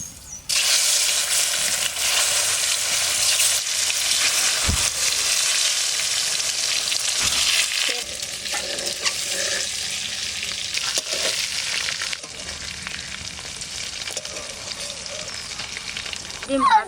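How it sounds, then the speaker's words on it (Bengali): Duck eggs frying in mustard oil, a loud bright sizzle and hiss from the hot pan with a few stirring scrapes, strong at first and then dropping to a quieter, steadier crackle. "গরম হয়ে গেছে, এবার ডিমটা ভেজে নেব"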